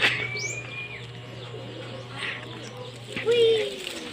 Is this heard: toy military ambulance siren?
no